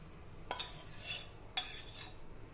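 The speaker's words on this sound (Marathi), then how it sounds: "यातलं जे थोडं मिश्रण आहे ते मी ह्या भांड्याला सगळीकडून लावून घेणार आहे" A metal spoon scrapes and taps around the inside of a metal vessel in two distinct strokes, spreading curd starter, close and fairly quiet, with no talking.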